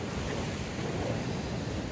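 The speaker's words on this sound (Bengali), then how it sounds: "এখানকার ঢেউগুলো কত বড় বড়" Large ocean waves crash and roll continuously onto the beach at Cox's Bazar, a loud, broad wash of surf mixed with gusty wind noise and no pause in the roar.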